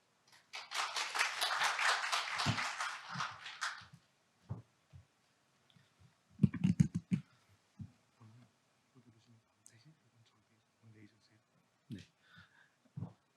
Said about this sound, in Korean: 그런 발표자를 박수로 맞이하겠습니다